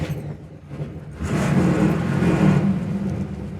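A warmed-up 1967 Chevy Camaro engine idles with a low rumble, then swells into a louder, sustained rev heard close by with no talk.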